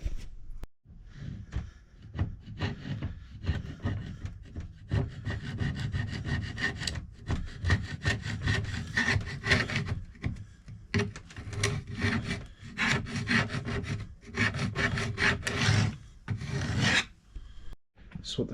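Hand sanding across the scratched wooden top of a funky old dresser, a steady rasping rub in repeated back-and-forth strokes with brief pauses, close and fairly loud with no talking.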